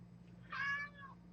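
A house cat gives one clear meow, fairly quiet and somewhat distant, rising and then falling over about half a second against a steady low indoor hum.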